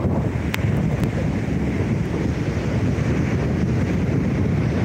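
Wind and surf at Alappuzha main beach in Kerala, a steady broadband roar of waves with gusting wind buffeting the microphone throughout, no voices.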